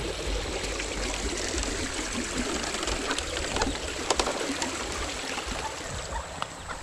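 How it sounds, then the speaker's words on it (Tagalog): Steady rushing of water flowing near Ambon Ambon Falls, a continuous broadband wash that stays even throughout, with a few faint clicks on top. "Tignan mo, tubig yan."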